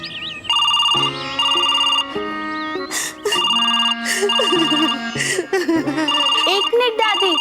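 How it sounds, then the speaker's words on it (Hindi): A telephone rings in a tonal, repeating electronic ringtone pattern, loud and close, interleaved with emotional voices calling out in a domestic comedy scene. "फोन आया है, मैंने नहीं उठाया है"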